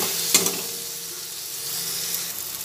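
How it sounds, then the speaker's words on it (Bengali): Masala fries with potol, potato and chopped green chilies in a pan, a steady close sizzle with a brief sharp spatula knock near the start. "দিয়ে ভালো করে মশলাটা একসঙ্গে ভেজে নেব।"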